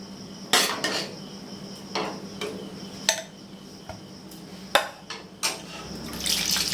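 Cold water poured into a pot holding boiled raw mango, with clanks and clinks of metal cookware at close range, sharp knocks scattered between them and a rush of running water at the end.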